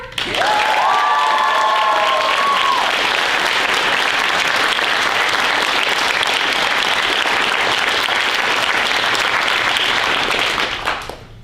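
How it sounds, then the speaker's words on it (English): A high school audience gives its director a long, loud round of applause with cheering and a few whoops early on, the clapping staying full and steady before stopping abruptly. "A round of applause to Miss Georgia,"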